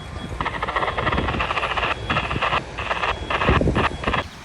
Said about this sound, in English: got another train going